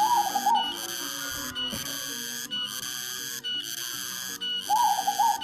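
Zebra dove (perkutut) cooing in repeated phrases, a clear rhythmic call heard up close and alone, with no talk.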